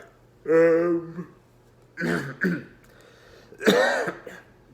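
A person coughs in a few rough, raspy bursts, with short pauses between them and the last cough loudest and harshest.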